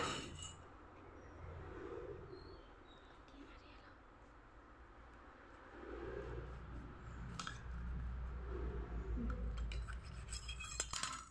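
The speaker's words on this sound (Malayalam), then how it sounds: "ഫസ്റ്റ് ഈ ലെമണിനെ നമ്മൾ കട്ട് ചെയ്യാം." A knife slices through a lemon on a kitchen surface with soft scraping and squishy cuts, quiet and close, with faint voices and background noise behind.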